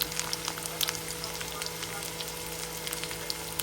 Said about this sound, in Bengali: হাফ কাপের থেকে কিছু কম পেঁয়াজ কুচি দিয়ে দিই